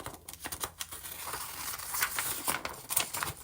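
Paper being cut for a junk journal with scissors, a run of short, crisp snips and rustles at close range with no voices.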